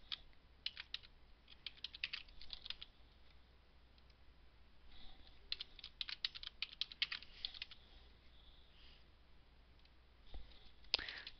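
Typing on a computer keyboard while entering account details, with quiet, irregular bursts of key clicks and short pauses between them.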